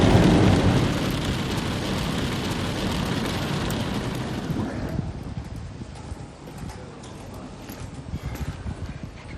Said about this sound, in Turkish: Yani gayet yoğun bir yağmur var şu anda.